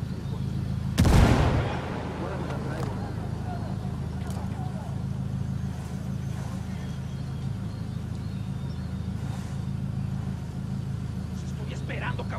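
Ghost Recon Wildlands video game grenade explosion, a single loud blast near the start, followed by faint scattered gunshots under steady engine-like rumble and people talking.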